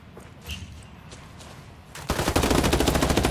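Automatic gunfire in a Ghost Recon Wildlands firefight erupts after a quieter stretch, a loud, dense burst of rapid shots continuing to the end.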